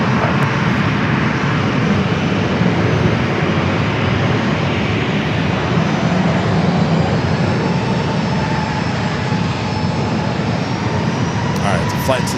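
An airplane takes off from runway 27 at San Diego airport, its jet roar a loud, steady wash of noise holding without a break.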